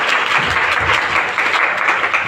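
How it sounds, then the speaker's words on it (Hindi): Seminar audience claps together in a dense, steady burst of applause, filling the room at close range with a mild murmur beneath. "ताली बजाइए सर"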